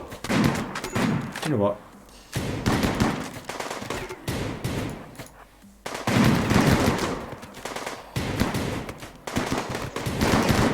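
Gunfire from the colony game Rimworld, with enemy snipers, rattles out in repeated bursts of shots, clustered and fairly loud, while someone talks over parts of it.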